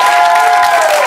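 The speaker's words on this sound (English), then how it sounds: "Big round of applause" A studio audience on a reality TV companion show bursts into a brief, loud round of applause with a faint cheer, a short dense clatter of many hands.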